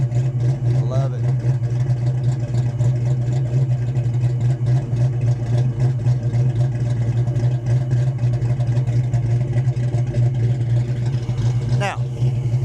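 A supercharged engine with a B cam and Jones mufflers idles close by with a strong, steady low burble and slight rhythmic lope, plus a brief higher whine near the end.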